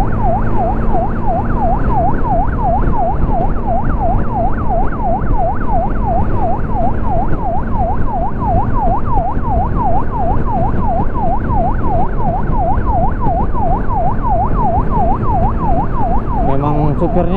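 A loud ambulance siren cycles in a rapid, regular up-and-down yelp, close and continuous throughout.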